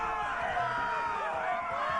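Arena crowd in a Game of Thrones video game, a dense, steady roar of many voices cheering and murmuring throughout, fairly loud and continuous.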